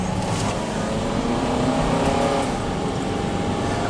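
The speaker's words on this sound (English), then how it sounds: "there's a truck coming" A truck passes on Highway 14 near Indian Wells Canyon in Inyokern, California, producing a steady, loud engine and road roar that stays constant throughout, heard from inside a moving vehicle.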